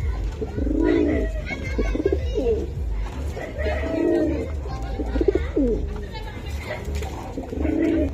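Pakistani Teddy pigeons coo at a pigeon farm, with deep, rolling calls repeating every couple of seconds close by while people talk throughout.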